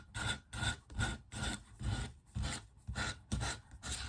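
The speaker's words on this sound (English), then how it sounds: "So now I'm just going to sand the edges really well." Hand sanding along the edges of a scrap wood piece, a steady series of rough, rasping back-and-forth strokes, close and fairly loud, with short pauses between passes.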